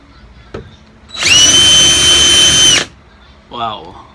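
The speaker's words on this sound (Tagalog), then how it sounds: "Pero na-notice ko itong DeWalt standard drill na to" DeWalt cordless drill driver set to speed setting 2, a loud close whine that spins up, runs steady for about a second and a half, then stops, with brief speech just after.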